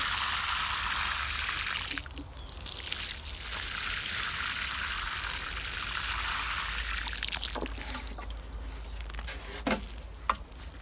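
Water pours and trickles steadily onto soil over newly planted lilies in a spring garden, a continuous close splashing wash that thins out toward the end with a few brief drips and taps.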